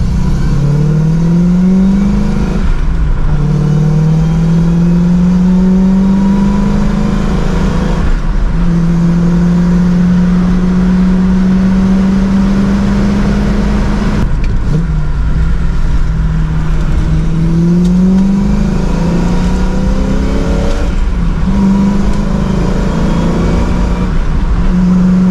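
A Ford Fairmont engine drones loudly inside the cabin while driving, its exhaust leaving through a too-short tailpipe, the pitch rising and falling through repeated accelerations and gear changes.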